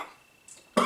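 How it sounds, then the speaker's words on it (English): A short cough comes out of a coughing fit, a brief harsh burst at close range following a faint breath. "I got so excited I started to get into a coughing fit."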